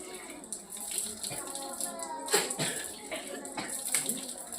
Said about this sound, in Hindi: फिर नाक में पानी डालेंगे 3 बार